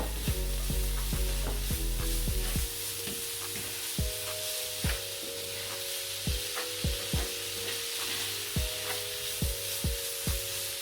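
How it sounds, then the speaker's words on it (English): Beef fried rice ingredients, pieces of meat with curry leaves, black pepper and curry powder, stir-fry in a pan. A continuous sizzle runs under regular, rhythmic scraping and tossing strokes, close and fairly loud, with no talking. "So we're going to continue to stir fry it for the ingredients to get done"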